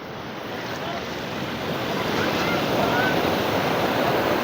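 Ocean surf rolls onto a seashore, a steady, loud wash of breaking waves that swells slightly toward the end, mixed with gusty wind buffeting the microphone.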